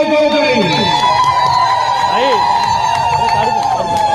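A crowd at an election rally in Padampur, Odisha, ululates in hudhudi calls, their wavering, overlapping trills rising and falling under a man's amplified speech.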